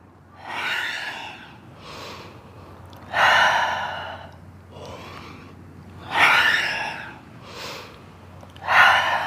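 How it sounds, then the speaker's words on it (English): Heavy, rhythmic breathing during a yoga core exercise, loud close inhales and exhales rising and falling in slow waves roughly every three seconds, with softer breaths between the strongest ones. "Keep breathing."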